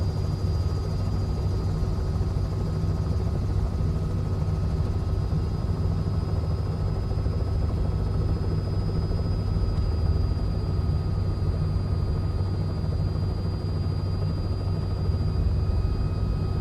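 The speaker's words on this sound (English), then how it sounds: "Try and bring the helicopter down a little bit lower." A steady, droning Robinson R66 helicopter engine in a flight simulator game, with a constant rotor hum and whining tone, unbroken and fairly loud throughout.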